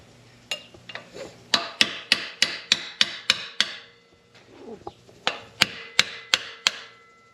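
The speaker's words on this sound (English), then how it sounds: "see if we can't get that castle nut to loosen up a little bit." A drift is hammered against the steering-head castle nut on a 1989 Yamaha TW200 motorcycle, giving two bursts of sharp metallic blows in quick regular rhythm, close and loud, separated by a brief pause.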